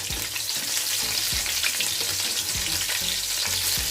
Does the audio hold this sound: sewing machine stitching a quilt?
no